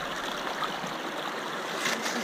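Water rushes steadily through a gold-panning sluice box set below a small dam on a Polish river, a fairly quiet, continuous gurgling stream with no voices.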